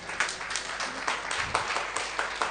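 A crowd applauds at an education conference, a dense continuous wash of many hands clapping together at a steady level throughout.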